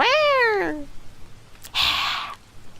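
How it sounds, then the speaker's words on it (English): A cat from the Arcaea video game gives a short rising meow, then after a pause a brief breathy hiss, both close and clear with no talking. "That was a very bad hiss."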